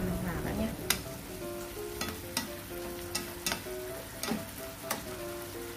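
Duck pieces with ginger braise in a pot over a low flame, giving a soft continuous simmer and sizzle with occasional stirring clicks and scrapes, close and fairly quiet.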